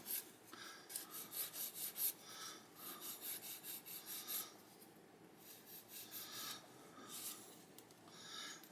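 Sandpaper rubs back and forth against a plastic part from a 1/48 M1A2 Abrams model tank kit, making soft, rhythmic rasping strokes in quick bursts with short pauses, close and quiet.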